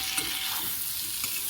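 Potatoes and pointed gourd frying in a pan over low heat, with a steady sizzle and soft scraping as they are stirred, no voices.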